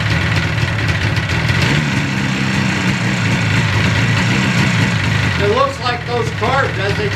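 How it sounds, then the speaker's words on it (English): A Yamaha RD400 motorcycle fitted with new Mikuni carburetors idles at about 1200 rpm, a loud, close, steady engine drone running throughout beneath a voice talking. "carbs, as they come from Sunco, are even set for a pretty close idle. They're idling at 1200."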